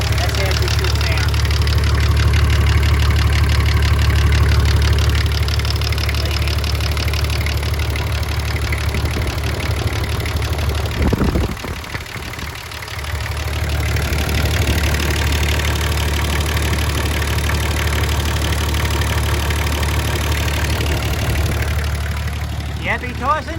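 Nissan GU Patrol diesel engine idling steadily after a new injector pump is fitted, a low continuous rumble heard at close range, with a voice speaking over it partway through.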